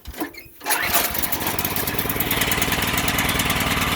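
A Sears garden tractor engine catches after a brief start and settles into a steady, loud, close running drone.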